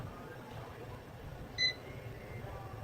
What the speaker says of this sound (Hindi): बीप की आवाज भी आ रही है